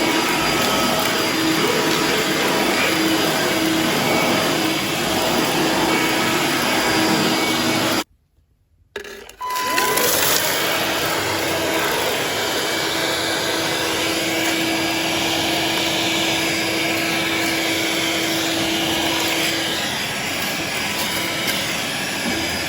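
A Bosch BHN24L handheld vacuum cleaner runs with a steady, loud whine close by. It cuts out abruptly for about a second partway through, then restarts and hums on continuously to the end.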